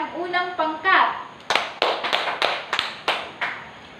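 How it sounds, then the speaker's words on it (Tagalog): Students in a Filipino literature classroom clap for a group: a quick burst of applause, then several sharp separated claps in a steady rhythm, with a voice speaking briefly before. "Palakpakan natin ang unang pangkat."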